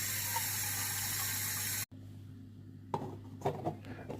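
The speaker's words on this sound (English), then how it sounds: "It's time to fill it up with some water." Water runs steadily into an H2O humidifier tank, a loud constant rush that stops abruptly, followed by quieter handling clunks and knocks.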